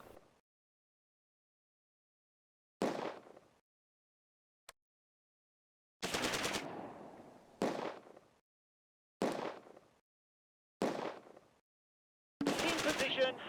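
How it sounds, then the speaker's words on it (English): Vickers machine gun in the Close Combat war game fires several separate loud bursts of rapid rattling shots, each a second or so long, with short silences between them. "The Vickers prepares to deliver more suppressing fire"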